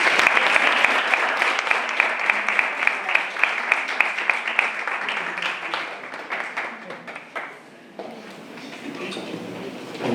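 Open-air poetry reading audience in Albolote gives a steady round of applause, dense clapping that holds for several seconds before thinning and trailing off near the end.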